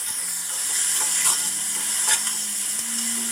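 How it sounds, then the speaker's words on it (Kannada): Potato french fries frying a second time in oil over a medium flame, a steady hissing sizzle with a couple of brief stir-like swells, close and continuous with no talking. "ಇವಾಗ ಮತ್ತೆ ನಾನು ಇನ್ನೊಂದು ಟೈಮ್ ಅದನ್ನೆಲ್ಲ ಫ್ರೈ ಮಾಡ್ಕೊತಾ ಇದ್ದೀನಿ"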